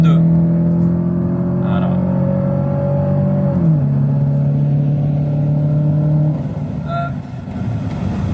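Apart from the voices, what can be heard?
Citroën Xsara automatic engine revving when accelerator pressed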